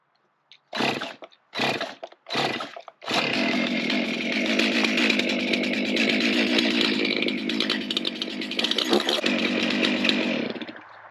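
A chainsaw is pulled three times in short sputtering bursts, then catches and runs steadily at a loud, close idle-to-rev roar for several seconds.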